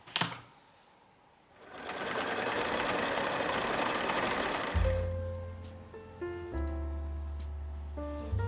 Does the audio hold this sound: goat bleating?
no